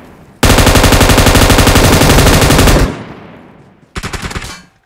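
Loud automatic gunfire in a video game rattles in a long rapid burst, stops, then a second shorter burst follows, close and harsh.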